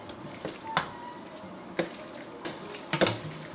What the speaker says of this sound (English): So we're gonna stir and keep stirring the beef with the onion until all the beef is browned.